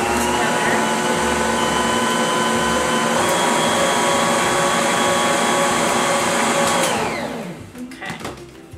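An electric mixer whirs steadily as 3.4-ounce regular-size pudding mix is blended into lemon poke cake batter, a loud continuous motor drone that cuts off near the end, leaving quieter clatter.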